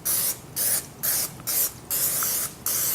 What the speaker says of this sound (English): I'm going to do is spray some cooking spray